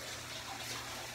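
Steady broadband rush of hot water flowing from a tap, continuous and fairly close, with no voices.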